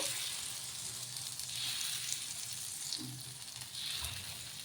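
Dosa-style batter spread thin on a hot pan over a high flame sizzles and fries steadily, a continuous loud hiss with faint scraping stirs.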